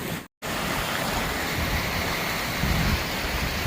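A creek running high rushes and splashes in a dense, constant roar, close and loud, broken only by a brief dropout near the start, with no voices.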